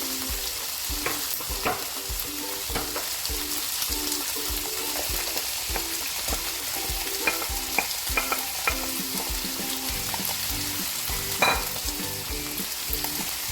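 Tomatoes and onions frying in a pan for a beef stew with spinach, a steady close sizzle broken by repeated scraping stir strokes throughout, with no talking.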